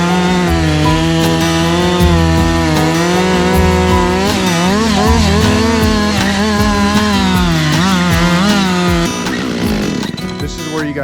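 A chainsaw cuts through a leaning tree and throws big wood chips, roaring loud and close. Engine pitch rises and dips with the load for about nine seconds before easing off near the end.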